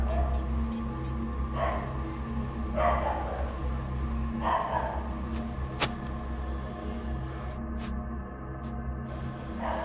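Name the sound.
dog barking angrily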